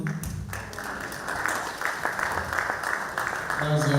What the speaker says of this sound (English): That's a well-deserved round of applause